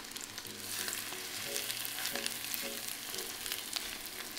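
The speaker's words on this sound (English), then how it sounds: "then you're gonna let them kind of fry a little bit for a few minutes" Wild turkey pieces fry in a cast iron pan, giving a steady, moderate crackling sizzle throughout with a low hum beneath and a few louder spits.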